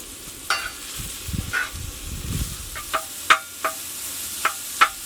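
Cremini mushrooms sear in butter in a skillet outdoors on a trail, with a soft sizzle and a few sharp clicks and scrapes of a utensil against the pan, close and unaccompanied by talk.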